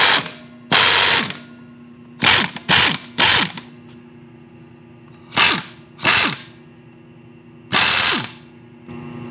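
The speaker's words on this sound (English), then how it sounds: "I got a Whitworth socket on here." Whitworth socket on a ratchet wrench working a bolt on a bike, heard as loud, close bursts of rapid clicking, some long and some short in quick pairs, over a steady background hum.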